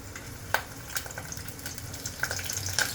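Curry leaves and garlic sizzle and crackle in hot oil for a tempering, a soft continuous fry marked by a few sharp pops, fairly quiet with no voices.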